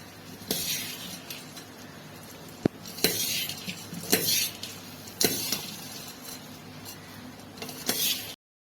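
Bhel puffed-rice snack being mixed with chutney in a bowl, a run of crisp metallic clinks and scrapes from a spoon at a steady pace, recorded close.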